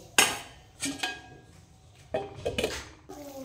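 A metal lid knocks and settles onto a pot of potato curry on a home stove: several sharp clinks and rattles in quick clusters, close and fairly loud, with quiet gaps between them.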